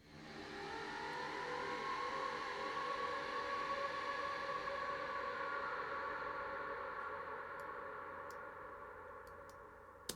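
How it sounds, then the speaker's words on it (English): A sustained, washed-out time-stretched texture with a long vintage-style reverberant tail swells and slowly fades, with a few faint ticks near the end. "Amazing what a bit of reverb can do, hey?"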